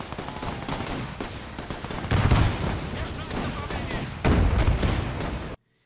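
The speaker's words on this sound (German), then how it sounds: "die Artillerie schießt schon sehr gut" Artillery and small-arms fire in the war strategy game Men of War II, continuous crackling shots with two heavier booming swells, a voice talking throughout before an abrupt cutoff.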